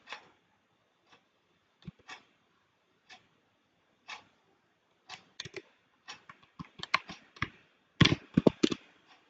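Sparse, close keystrokes on a computer keyboard, starting as isolated taps and building into quicker clustered bursts of typing toward the end, with no talking.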